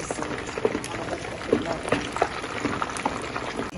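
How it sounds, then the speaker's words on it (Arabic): Damascene kibbeh balls bubble and crackle in a pot of hot oil, a busy, close fizzing broken by small popping bursts, steady and moderately loud with no voice. "في هذا الوقت اللي بيتقلى فيه الكبة"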